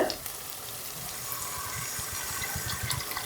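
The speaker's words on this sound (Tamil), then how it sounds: "இப்போ எடுத்து வச்ச தேங்காய் பால் ஊற்றிக்கலாங்க" Coconut milk poured into a pressure cooker holding egg biryani, a steady wash of liquid with faint sizzling and bubbling throughout, close and fairly quiet with no talking.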